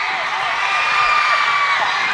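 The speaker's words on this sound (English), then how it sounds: "the crowd filled up again," Crowd cheering and shouting fills a gym during an elementary school girls' basketball game, a loud, steady roar of voices with whoops rising slightly midway and holding throughout.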